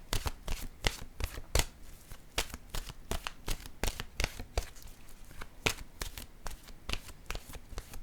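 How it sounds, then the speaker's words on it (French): Oracle cards are shuffled by hand close up, with rapid irregular riffling slaps repeating over several seconds, fairly quiet and without talk. "je vais piger une carte de mon oracle de l'âme intuitive"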